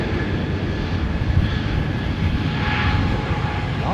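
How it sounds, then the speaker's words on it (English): An Iberia Airbus A320neo taking off at London Heathrow, a loud, steady engine rumble and roar held for several seconds without a break. "Look at that Iberia A320neo going out after it."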